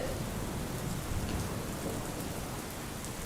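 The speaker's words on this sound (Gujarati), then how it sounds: "વહેલી સવારેથી પણ ઝરમર વરસાદ ચાલુ છે" Steady drizzle patters on surfaces in Surat, an even, continuous hiss with faint droplet ticks and no talking.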